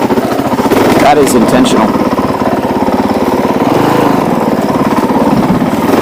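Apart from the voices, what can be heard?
Honda CRF450L motorcycle engine running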